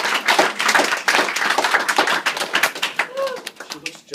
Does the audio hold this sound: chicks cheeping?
no